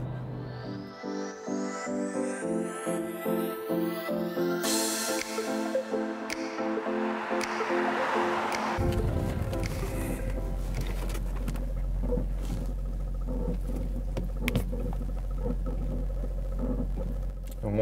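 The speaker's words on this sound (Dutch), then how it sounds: "Mooie symfonie van de kachelmotor en het piepje in het onderstel." Heater fan motor and a small squeak from the undercarriage of a Volvo XC90 while driving, a steady whirring drone with rising tonal sweeps and occasional faint high chirps over low road rumble.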